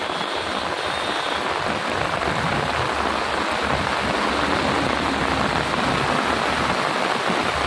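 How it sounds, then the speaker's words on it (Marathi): Heavy downpour on the Pune-Bengaluru highway near Karad, a dense, steady roar of rain hammering the ground, loud and unbroken throughout with no voices. "सलग 6 दिवस या ठिकाणी मुसळधार पाऊस झालाय."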